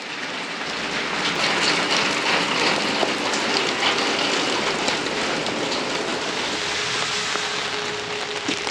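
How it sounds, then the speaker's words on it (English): Steady rain pours outdoors during rat control work in a basement and street setting, a dense continuous hiss of drops on surfaces filling the whole stretch at an even, fairly loud level with no voices. "As you can see, we're fighting rain right now."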